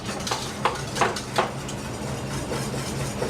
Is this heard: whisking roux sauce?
yes